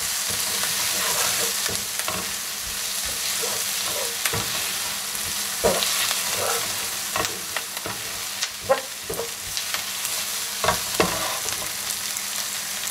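Garlic sizzling in a pot for a Tuscan beef stew, with a steady frying hiss under repeated scraping stirs of a utensil against the pot, close and fairly loud with no talking.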